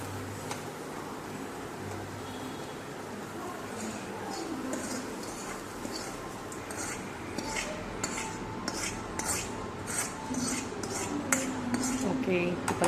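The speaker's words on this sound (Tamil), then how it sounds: "இப்போ இதை அடுப்பை ஆஃப் பண்ணிவிட்டு மாவில் எடுத்து மிக்ஸ் பண்ணிக்கலாம்." Kuzhi paniyaram batter, a well-fermented sour dough, being mixed by hand with cooked chutney ingredients, utensils clinking and scraping against a bowl steadily throughout, with faint bird chirps and cooing in the background.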